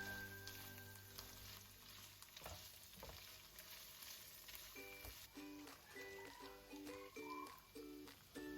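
Meat frying in a pan with grated garlic, a soft continuous sizzle with occasional faint stirring clinks, low and steady throughout.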